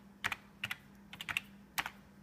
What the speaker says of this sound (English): Going down here and typing in